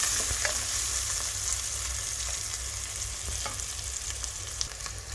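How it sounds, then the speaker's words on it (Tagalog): Onions and garlic sizzle and fry in a pan while being stirred toward golden brown, a steady close hiss with occasional scraping stir sounds throughout. "Haluin natin hanggang mag golden brown siya"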